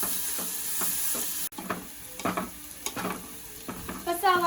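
Sliced onions fry and are stirred in a clay pot for a prawn roast, a steady close sizzle broken by repeated scraping strokes of the spoon against the pot.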